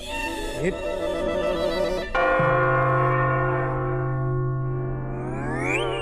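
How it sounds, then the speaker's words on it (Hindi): A loud, sustained bell tone rings out and slowly decays, with rich overtones and a rising whistle-like sweep near the end. "बज गई घंटी"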